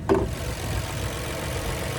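A 1.3-liter turbocharged three-cylinder engine in a 2025 Buick Encore GX Sport Touring idles steadily with a low, even hum after a brief soft knock at the start.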